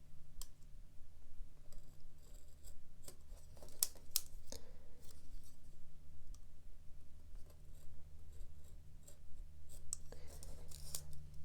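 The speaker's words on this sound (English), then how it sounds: "I'm feeling for the depth of the paper as I cut through the 2 layers" A craft blade cuts through two layers of paper and black cardstock for quilling, making faint, scattered ticks and scratchy clicks close by over a low steady hum.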